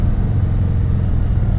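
A 2018 Harley-Davidson Sport Glide with its 107 engine gives a loud, close, steady low rumble that holds even throughout, with no voices.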